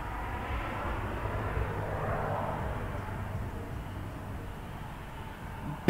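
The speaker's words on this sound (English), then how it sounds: "There is an airplane going right through." Fixed-wing airplane passing overhead at night, a steady broad engine rumble holding at moderate level throughout without any talking.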